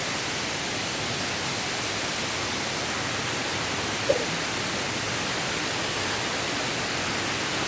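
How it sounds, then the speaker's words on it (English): A waterfall at Jagir in Banyuwangi, Indonesia, roars close by as a loud, dense, unbroken rush of falling water, steady throughout with no voices. "Let me take you a close up to this other waterfall."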